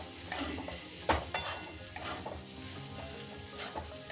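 Papaya fries in a pan with spices and salt, crackling in a steady sizzle while a utensil scrapes and stirs, leaving several sharp clinks against the pan.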